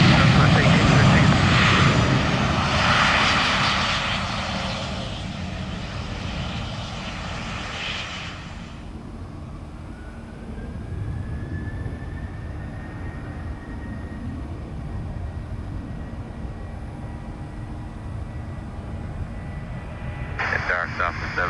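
A Southwest airliner departs Orlando International Airport with a loud jet roar that fades gradually as it climbs away, while radio chatter runs underneath.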